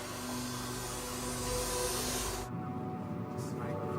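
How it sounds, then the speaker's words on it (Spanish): Vacuum cleaner running steadily inside a car interior, a loud continuous hiss and whine that cuts to a lower, duller tone partway through, with no talk. "limpia el interior con una aspiradora para hallar cabellos y fibras"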